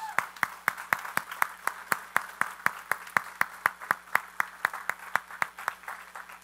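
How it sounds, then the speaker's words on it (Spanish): A church congregation gives a short round of applause during a sermon, heard as slow, evenly spaced single claps, about four per second, fairly close and moderately loud, with no talking. "Un aplauso."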